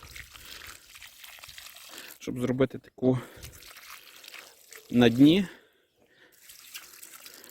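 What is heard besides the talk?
water being poured into a planting hole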